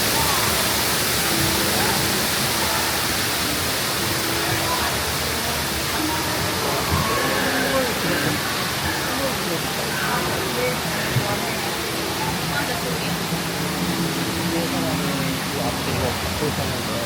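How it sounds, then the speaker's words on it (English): Steady rushing water from a waterfall along the Pirates of the Caribbean boat ride at Walt Disney World's Magic Kingdom, a continuous broadband wash that holds even throughout, with faint voices mixed into the background. "Here's a waterfall."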